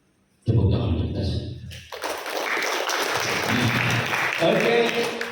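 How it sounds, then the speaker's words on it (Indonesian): A voice speaks briefly at a customer training seminar, then an audience breaks into broad, sustained applause that fills the room at a steady, fairly loud level. "Tepuk tangan untuk kita."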